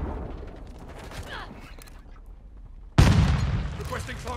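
Gunfire and a crashing VTOL aircraft in Modern Warfare 2 multiplayer: low game ambience and faint talk give way to a sudden, loud, close burst that stays harsh and dense to the end.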